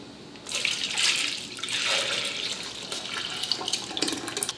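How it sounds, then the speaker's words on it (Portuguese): Chicken cooking water pours into a mug in a home kitchen, a close, steady liquid stream splashing for several seconds, rising and falling in intensity with no talking. "Vou pegar essa água do cozimento e vou colocar na mesma caneca"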